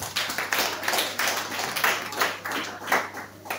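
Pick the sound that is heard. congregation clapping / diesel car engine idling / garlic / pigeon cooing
congregation clapping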